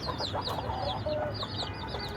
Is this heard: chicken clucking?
yes